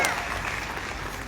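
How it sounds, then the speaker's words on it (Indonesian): A church congregation claps during a Sunday worship service in Makassar. Soft, distant applause forms a continuous wash, with some voices mixed in. "Tepuk tangan yang paling meriah bagi Tuhan kita"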